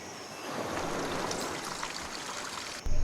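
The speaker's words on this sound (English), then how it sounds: "It flows from the island off the mountains." Spring or rainwater runs off the mountains on a desert island, a steady close trickling stream of flowing water that continues without a break, with a louder splash of water right at the end.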